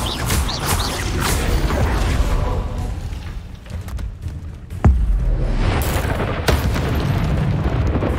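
The Bombarda explosion spell goes off in the Hogwarts Legacy video game, a dense rumbling boom with a sharp burst near the middle over a continuous loud, roaring game soundscape.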